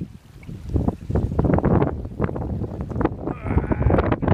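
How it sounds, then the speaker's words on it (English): Canoe paddling through a November snow squall in Algonquin Park, with wind buffeting the microphone and water splashing in irregular strokes close by, steady and fairly loud throughout. "Paddling in a snow squall."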